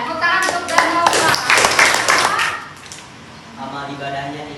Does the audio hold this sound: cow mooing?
no